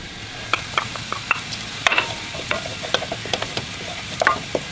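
Onions frying in a pan as minced ginger and garlic go in for chana masala, a low steady sizzle under sharp, irregular clinks and scrapes from a stirring utensil, close and fairly loud.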